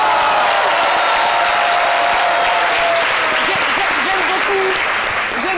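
Studio audience on a TV show applauds loudly and continuously, a dense wall of clapping with some crowd noise and faint voices beneath.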